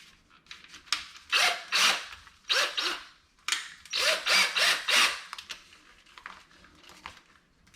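A power drill spinning a dryer vent cleaning brush whirs in several bursts, spinning up and winding down with short pauses between, close and fairly loud, with a faint rattling scrape.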